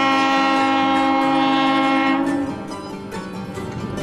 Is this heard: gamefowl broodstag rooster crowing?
no